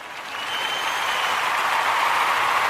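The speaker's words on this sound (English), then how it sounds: "Let's give Mr. Wally a round of applause" A small audience at a live show gives a round of applause, a steady wash of clapping that rises quickly at the start and holds evenly.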